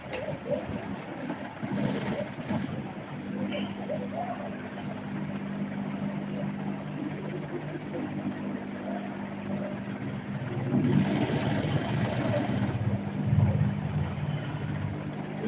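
A sewing machine stitches fabric with a steady motor hum that runs without a break and swells slightly near the end.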